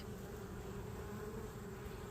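Bees buzz steadily around hives at an apiary, a faint, continuous hum under quiet outdoor background.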